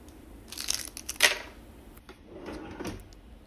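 A drawer slides open and shut with a short wooden thunk and rustle while candy canes are hidden in a bedroom during a Christmas elf-on-the-shelf setup, followed by quieter shuffling, close and fairly soft.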